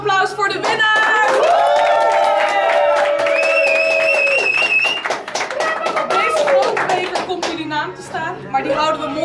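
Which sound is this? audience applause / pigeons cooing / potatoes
audience applause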